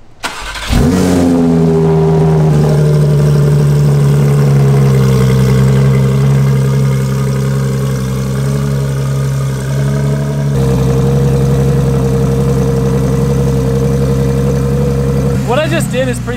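A Porsche 911 boxer engine starts and settles into a loud, steady idle with a deep rumble, shifting in tone partway through, with people talking over it.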